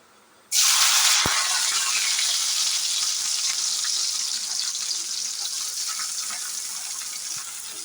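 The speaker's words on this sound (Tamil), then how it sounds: "நான் பிரண்டையை வாஷ் பண்ணி எண்ணெயில் ஃப்ரை பண்ணி எடுத்துக்க போகிறேன்" Pirandai (adamant creeper) dropped into hot oil sets off a sudden loud, bright crackling sizzle that runs steadily and fades only slightly, close up with no voices.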